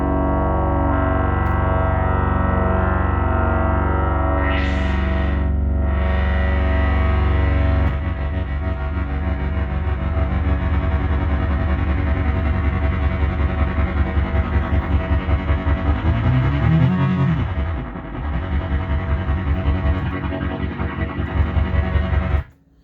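A Yamaha CS70M synthesizer holds sustained notes that drone on continuously, loud and close, with a pulsing throb and pitch sweeps partway through, ending in a sharp cutoff; no voices.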